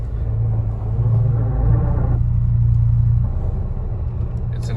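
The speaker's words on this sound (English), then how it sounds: "it's an issue with one of the discs or both of the discs in this DKM MS twin disc clutch" A Mk7 Volkswagen GTI with about 130k miles and a DKM MS twin disc clutch suspected of faulty discs or a worn throwout bearing gives off a steady, close, low rumbling drone that swells slightly midway, with no talking.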